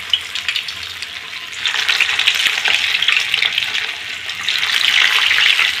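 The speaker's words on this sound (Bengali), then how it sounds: "এই ডিমের চপগুলো ভাজতে একটু সময় লাগে" Egg and potato chops fry in hot oil, sending up a continuous crackling sizzle that swells louder partway through, heard close up without speech.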